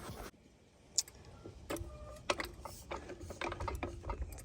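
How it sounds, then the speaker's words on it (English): A car jack ratcheting up beneath a Corvette C8 on its jacking puck: sharp metallic clicks and ticking pawl strokes in an uneven series, close and fairly quiet, with no talking. "Let's tighten up this jack,"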